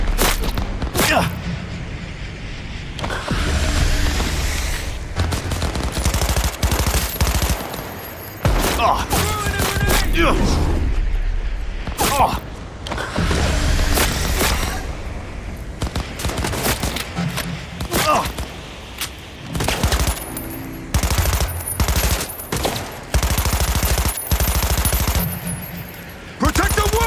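Shotgun fire in the video game Cyberpunk 2077: loud booming blasts and bursts of gunfire repeat throughout a chaotic firefight, with shouting voices over the top.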